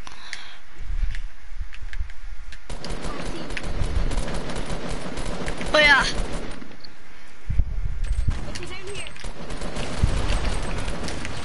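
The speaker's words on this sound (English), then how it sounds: "I'm getting shot, lads. I'm getting shot." Rapid bursts of automatic gunfire and scattered shots ring out in a Fortnite match, loud and close, with rustling movement between the volleys.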